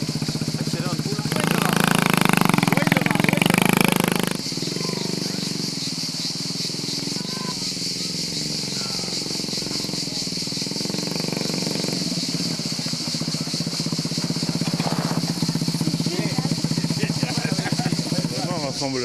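A motorcycle at the Blue Beach 2004 rally revs hard for a few seconds, then drops back to a steady idle, with people talking over the engine.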